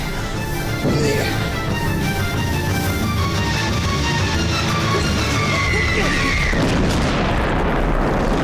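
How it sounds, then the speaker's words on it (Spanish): A loud explosion goes off close by and leaves a dense, roaring rumble that fills the whole stretch, with a sharp burst and a rising hiss near the end. "La explosión fue tan cercana y tan fuerte que pensaba que había muerto"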